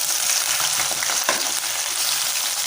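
Brinjal sizzles and crackles steadily in hot oil in a kadai, a close, bright frying hiss with small pops. No one talks.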